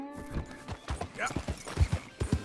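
Horse hooves clip-clopping in Red Dead Redemption 2, a quick irregular series of close thuds with a brief whinny-like tone, under a quiet voice talking.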